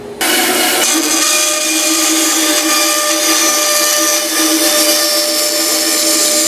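A power saw cuts an angled wooden leg for a king-sized deck chair, a loud, steady, high whine running close and continuous after a brief start.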